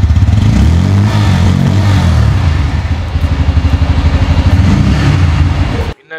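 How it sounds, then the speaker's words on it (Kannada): A Bajaj Pulsar N160 with an underbelly exhaust idles close up, its loud, steady low rumble throbbing evenly for about six seconds before cutting off abruptly near the end. "ನಿಮ್ಗೆ ಎಕ್ಸಾಸ್ಟ್ ಕೇಳಿಸ್ತೀನಿ ನೋಡಿ, ಇದನ್ನು ಅಂಡರ್ ಬೆಲ್ಲಿ ಎಕ್ಸಾಸ್ಟ್ ಅಂತ ಕೂಡ ಕರೀತಾರೆ"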